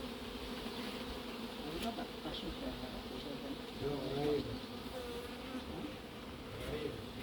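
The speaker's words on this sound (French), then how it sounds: "Ça va être difficile ce paquet d'abeilles." A swarm of honeybees gathered in a clump near an apiary buzzes in a continuous, fairly quiet drone that swells and dips slightly, with a few individual bees passing closer amid outdoor ambience.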